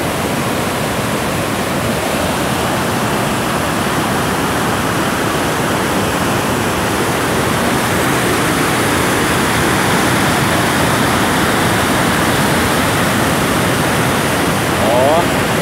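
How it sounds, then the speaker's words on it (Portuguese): Heavy, continuous roar of the Cachoeira da Chave waterfall in Votorantim, a large volume of water crashing down past a rock dividing the flow, loud and steady throughout with no pauses. "Mas olha o volume de água que dá lá pra baixo"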